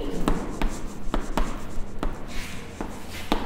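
A pencil writes Gujarati letters in a notebook, with a soft continuous scratch broken by sharp taps and strokes every half second or so, close by.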